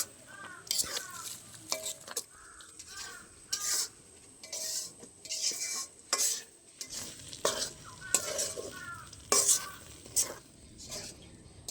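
Palm fruit kheer with sugar simmering and being stirred in a pot, with repeated scraping and clinking strokes of a spoon against the pan over a soft bubbling sizzle, close and fairly loud in irregular bursts.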